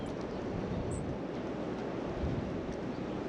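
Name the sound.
cold wind blowing through a valley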